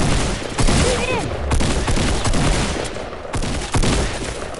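Shotgun blasts in a video game come as a few sharp, loud bursts spread across the stretch, mixed with other game effects and excited voices talking over the action.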